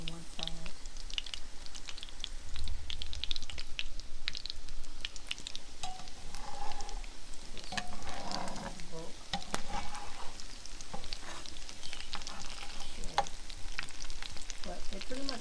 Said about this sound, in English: Alright, so spinach there. Pretty much done. I'll let it cook well on one side.